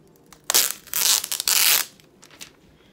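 Protective plastic film is peeled off a new MacBook in two long, crackling tearing pulls, close and fairly loud, with brief rustles afterward and no voices.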